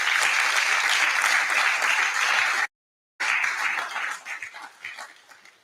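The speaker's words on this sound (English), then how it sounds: "So let us applaud ourselves for that." Dense applause from an audience at a university faculty association general assembly, sustained and loud, broken by a brief cut, then resuming and tapering off into scattered claps.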